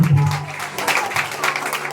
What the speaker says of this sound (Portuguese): aplauda ao Senhor Jesus por ter agido.